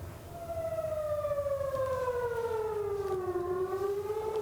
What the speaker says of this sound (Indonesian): Sirene serangan udara berbunyi di penjuru Tel Aviv